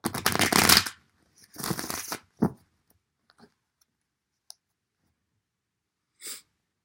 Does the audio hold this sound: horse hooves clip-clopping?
no